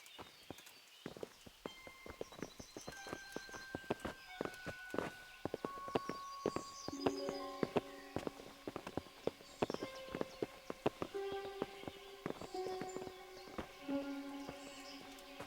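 Horses' hooves clip-clopping at a walk in the video game Kingdom Come: Deliverance, irregular nearby hoof strikes over a soft musical score, with no talk.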